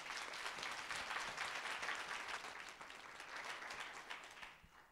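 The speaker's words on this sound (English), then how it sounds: "Give yourselves a round of applause." An audience at a Founders' Day brunch for a mothers' organization claps steadily for several seconds, a dense, even wash of applause that fades at the end.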